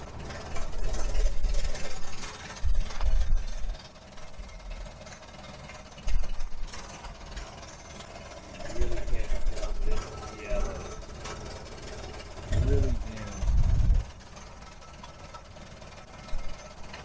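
A 1971 Camaro engine idles with a rough, uneven rumble and mechanical clatter, loudest in recurring bursts, while a person talks over it.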